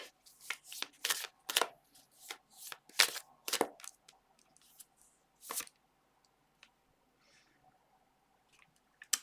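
Moonology tarot cards are shuffled in quick bursts of crisp riffling slaps, loud and close at first, then thinning into a few faint taps and near silence.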